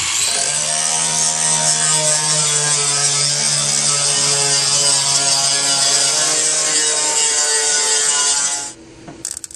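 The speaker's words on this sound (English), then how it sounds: "we'll do a little bit of sanding and a little bit of tacking" An electric sander works across a car body panel with a steady, close, high-pitched whir and rasp. It holds for about nine seconds, then stops abruptly.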